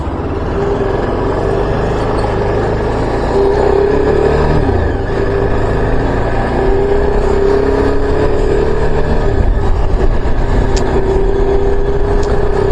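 A motorcycle rides along the road with a steady, continuous engine drone and rolling road rumble, close and fairly loud throughout, with no voices.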